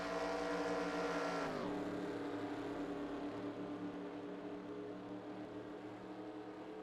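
Outboard racing boats roaring past on a lake in Orlando as a green-flag restart gets under way, a loud engine whine that drops in pitch as they pass and then settles into a steadier distant drone.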